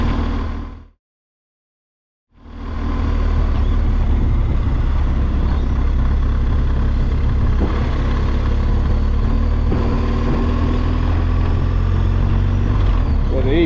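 Street traffic with cars and e-bikes passes in a steady engine rumble and road hiss after a brief silent gap, with vehicles swelling by at moderate distance.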